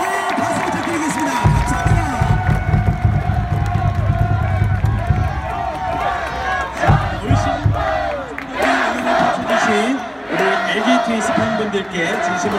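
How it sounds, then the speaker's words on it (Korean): Large baseball crowd at Jamsil stadium in Seoul applauding a player after an LG home win over NC, with continuous crowd noise, cheering and loud chanting voices throughout, plus a public-address announcer speaking over it. "영상편 선수에게 박수 부탁드리겠습니다"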